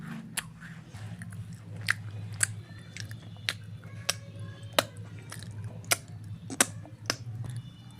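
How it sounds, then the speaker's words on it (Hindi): Biscuits being eaten with noisy chewing, a run of crisp, regular bites and crunches close up over a low background hum. "अरे आप तो खाते वक्त आवाज़ें भी करते हैं"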